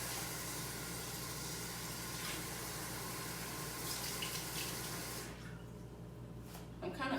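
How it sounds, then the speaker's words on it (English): Potatoes are rinsed under a running kitchen tap, a steady loud hiss of flowing water that cuts off near the end, leaving a quieter room with a few faint clatters. "So I'm gonna rinse these off."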